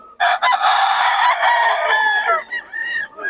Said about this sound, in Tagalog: Quality mga manok ni Boss Batang mga idol.